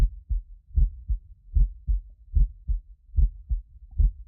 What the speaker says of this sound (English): My heart sound like this here.